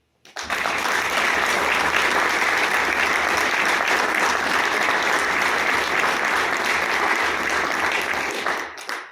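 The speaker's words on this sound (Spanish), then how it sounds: "Les voy a pedir también un aplauso especial para los miembros del Comité del 68." Loud, sustained applause from an audience at a memorial plaque unveiling honoring the 1968 movement committee, a dense wall of clapping that starts abruptly and holds steady throughout before cutting off.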